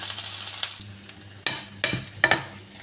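Scrambled eggs with spinach and onion leaves frying in a pan, a steady close sizzle broken by several sharp scrapes and taps of a utensil stirring against the pan.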